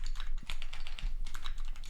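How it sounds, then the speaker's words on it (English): Rapid clattering keystrokes on a computer keyboard, steady and fairly close, with a faint low background hum. "I love this keyboard. I want this keyboard."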